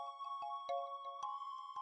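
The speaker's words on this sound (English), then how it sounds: "Why is my phone going off already?" A phone ringtone goes off with a repeating electronic melody of bright tonal notes punctuated by regular clicks, steady and fairly close, with no speech.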